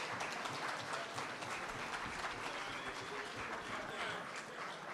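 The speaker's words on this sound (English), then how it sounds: "Let's give ourselves a round of applause" Applause from the audience at a national aviation honours ceremony, a steady dense wash of clapping lasting throughout, moderately distant and fairly faint with no one speaking over it.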